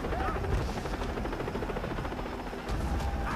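A helicopter in Far Cry 3 chops loudly and close with fast, even rotor pulses that run through the whole short stretch.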